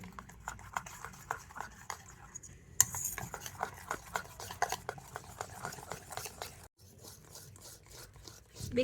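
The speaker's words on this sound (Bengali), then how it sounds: "বেকিং সোডা বেকিং পাউডার দিয়ে আবারও ব্যাটারটাকে একটু ভালো করে ফেটিয়ে নেব" Cake batter mixed with baking soda and baking powder and beaten briskly in a bowl, making a steady run of quick scraping and tapping strokes with one brief pause, close and fairly soft.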